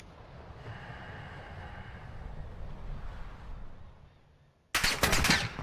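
Gunfire in the video game Call of Duty: Resurgence on the Ashika map, heard as a sudden loud burst of rapid shots near the end after a stretch of muffled, windy game ambience.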